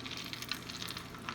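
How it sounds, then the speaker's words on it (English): Hot oil bubbles and sizzles around a potato dropped in to test it, a faint, close crackling hiss with tiny irregular pops over a brief moment. "our oil looks like it's bubbling. So what I do is I get a potato and just put it in there"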